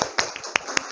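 Hands clap in a classroom in a short burst of about five sharp, close claps at an irregular, quick pace, with quiet gaps between them.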